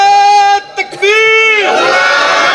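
At a wedding gathering, a single voice calls out a long, ringing Nara-e-Takbir slogan, then a crowd answers with a loud, blended chanted shout that carries on to the end.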